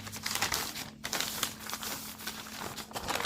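Paper crinkling and rustling continuously as a sheet is folded into four to draft a Filipiniana sleeve pattern, close and fairly loud with no voice.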